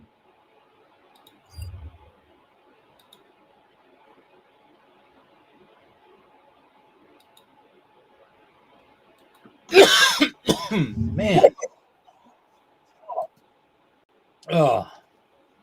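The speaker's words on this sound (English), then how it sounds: "I just had a coughing fit. I couldn't freaking get rid of that cough." A burst of harsh, raspy coughs and throat clearing breaks a long near-silence, followed by a couple more single coughs, close to the mic.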